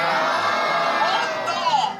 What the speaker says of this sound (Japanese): そうだ、みんな一斉にガオーって叫ぶのよ。